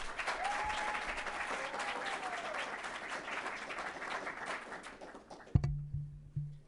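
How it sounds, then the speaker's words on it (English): Audience applause fills a scholarship ball hall, steady and dense for several seconds before cutting off, followed by a couple of brief low thumps. "A round of applause, please."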